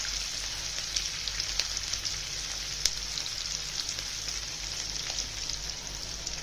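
Four or five green chilies sizzle steadily in hot oil for cucumber poha, a fairly faint, even crackle with scattered small pops and no talking.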